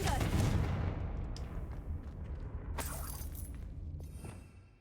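A Confringo spell blast from the game Hogwarts Legacy: a loud burst up front that fades over a few seconds, followed by a sharper crack partway through, with no speech.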